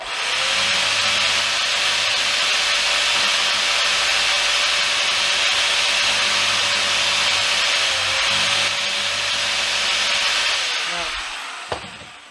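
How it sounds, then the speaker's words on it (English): A hand rasp files sideways across a wooden guitar template edge, a steady, close scraping that runs continuously for about eleven seconds before stopping, with someone talking at times. "rasp it away by going sideways."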